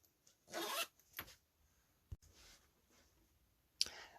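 A zip runs along a soft, easy-to-wash crossover bag. It gives one loud rasping pull early on, then a shorter one. A few quieter zip movements and clicks follow, with a sharp snap near the end, close by with no talking.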